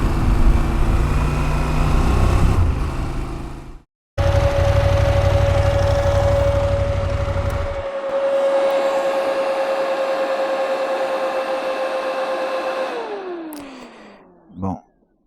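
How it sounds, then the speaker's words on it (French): A CF Moto 1000 MTX engine runs close by as the throttle is opened, making a loud, steady drone with a held whining tone that sags and falls away at the end. "Joli petit saut hein, dès qu'on ouvre un peu les gaz."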